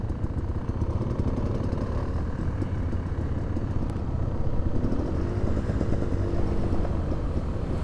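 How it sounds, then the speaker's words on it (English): A pressure washer runs outdoors, heard during a motorcycle ride, as a steady, rough, low engine drone with a rattling mechanical edge, continuous and moderately loud throughout. "Oh, it's a pressure washer."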